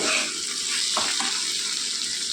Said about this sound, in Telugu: బాగా కలుపుకొని కొద్దిగా మగ్గనిద్దామండి.